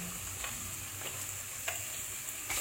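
Chopped onions frying with garlic paste in hot oil, giving a dense, continuous close-up sizzle with a few soft stirring scrapes and no talk.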